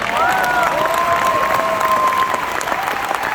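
Steady applause from an audience fills the whole stretch, with a faint whistling tone drifting over the clapping.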